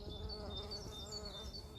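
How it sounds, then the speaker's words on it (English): A bee buzzes among azalea flowers in a garden, a steady, faint, continuous drone throughout with no talking. "Oh, there you are, little bee."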